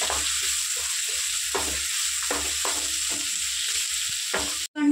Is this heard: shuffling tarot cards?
no